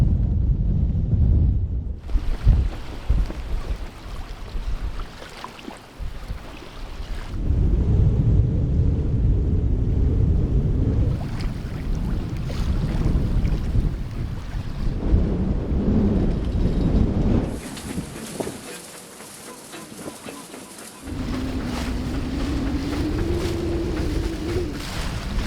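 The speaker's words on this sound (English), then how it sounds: "And now we get the wind." Strong wind buffets a homemade sailboat at sea off Sardinia, a loud, gusting roar of rushing air and microphone buffeting that swells and drops in long surges over nearly half a minute, with a low hum beneath at times.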